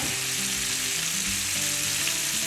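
Onion rings sizzling in a pot as the base for Southern collard greens, a close continuous frying hiss with low steady hum tones underneath.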